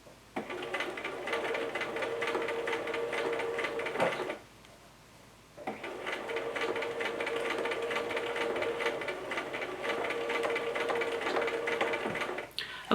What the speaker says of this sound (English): Gently pull against as the sewing machine is stitching.